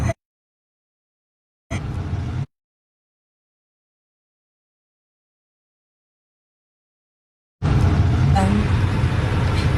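City road traffic in Canada: a brief burst of broadband engine and road rumble, then a louder, sustained stretch of passing vehicles near the end, with voices mixed in.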